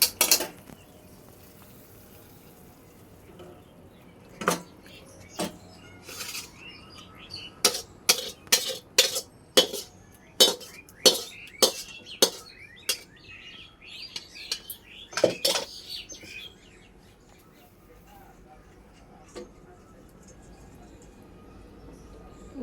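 Rohu fish curry ladled out of a pot, with a run of sharp clinks and knocks of a spoon against metal, irregular and close, some in quick bursts, with faint bird chirps in the background.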